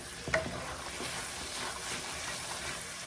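Chickpeas frying in a pan hiss in a steady, close sizzle while a spatula stirs them, with a brief scrape near the start and no talking.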